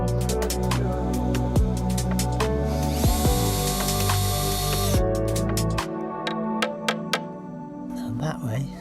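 A power drill drives screws to fix planks down onto blocks for a bonsai bench, with several loud whirring bursts that rise and fall, a sustained high run in the middle and short sharp taps at the end.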